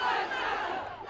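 A large protest crowd chants in unison at a demonstration over George Floyd's death, a dense, loud wall of voices heard briefly.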